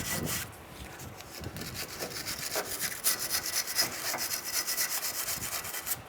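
Loose corrosion being scraped and brushed off the front wheel spindle of a 1992-1996 Ford F-150 truck: quick, repeated rasping strokes, close and moderately loud, in an uneven rhythm for several seconds.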